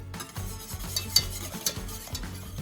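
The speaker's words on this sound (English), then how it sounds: "And we're mixing that on the side and we're just adding it slowly." A spoon stirs thickened sauce for beef short ribs in a pan, giving close, rhythmic scraping and wet swishing strokes over a light sizzle, with no voices.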